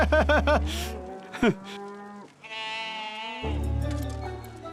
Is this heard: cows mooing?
yes